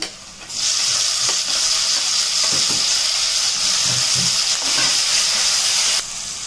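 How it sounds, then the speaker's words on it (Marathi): Tomatoes drop into a pan of onions and chillies already fried golden brown. A loud, close sizzle starts abruptly and holds steady throughout, with no talking. "कांदा परतून झालेला आहे. टोमॅटो घालूया."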